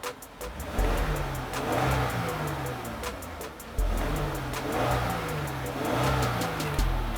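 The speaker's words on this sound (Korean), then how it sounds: "악셀 한번 밟아볼게요." A Genesis BH330 sedan's 3.3-litre naturally aspirated engine rises in pitch as the accelerator is pressed, then drops back and climbs again, a close, throaty roar sweeping up twice.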